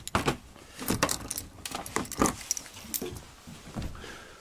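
Car keys for a 1994 Chrysler Grand Voyager jangle in a quick string of close metallic rattles as they are handed over, with no talking.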